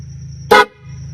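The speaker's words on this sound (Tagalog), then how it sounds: "Air horn o busina, parang ganun to." A single loud horn blast, about a tenth of a second long, bursts over a low steady engine hum and fades quickly.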